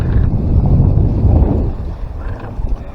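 Steady wind at sea, about 10 knots, rushes and buffets around a sailboat under way off Menorca, a loud broadband roar that eases slightly toward the end, with no voices.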